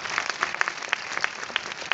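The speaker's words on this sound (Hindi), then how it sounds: "एक तालियों की गजरहट मैडम की" Scattered clapping from a small group, individual claps audible in an uneven rhythm, moderately loud and brief.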